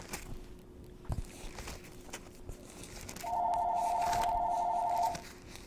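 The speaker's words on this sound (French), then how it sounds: "Excusez-moi le téléphone." A telephone bell rings in one sustained, warbling burst of about two seconds, fairly clear in a quiet room after a few soft knocks and shuffles.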